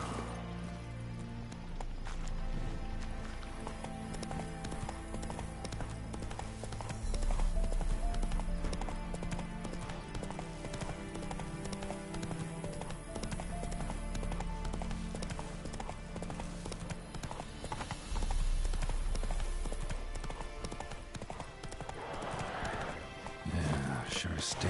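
Roach, a horse in The Witcher 3 game, gallops with steady rhythmic hoofbeats under a swelling musical score, with a brief whinny and other game sounds mixed in throughout.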